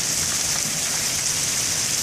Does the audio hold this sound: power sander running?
no